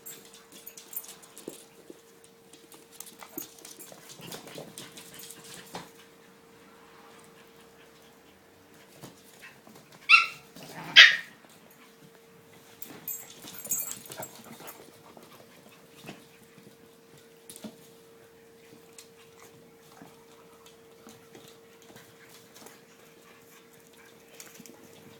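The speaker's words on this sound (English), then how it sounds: "Puppies want to play with him." Young puppies at play, whimpering faintly and yipping in two short sharp bursts midway through an otherwise quiet stretch of soft rustling and movement, with a steady low hum underneath.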